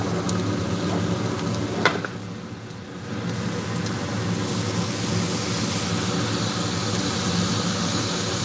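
Soy sauce hits a hot pan and sizzles in a dense, steady hiss that holds evenly throughout, with a brief clink near the start, close and without voices.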